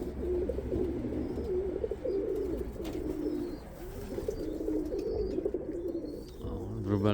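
Young light-coloured pigeons cooing steadily at a loft in Radom, with low murmuring coos layered over a busy outdoor background and a few faint higher bird chirps mixed in.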